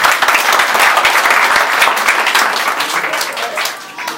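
An audience applauds a female party delegate at a political party installation ceremony, a loud, steady wash of clapping from many hands that runs throughout and eases slightly at the end.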